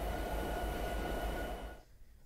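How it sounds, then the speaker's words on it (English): Train rumble from a Train Sim 2017 locomotive slowing under brakes, a steady loud low drone with a faint tonal whine that cuts off near the end, no voices. "the train is now slowing down"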